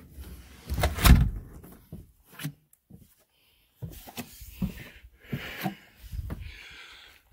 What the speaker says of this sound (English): I'm gonna shut this door as I go down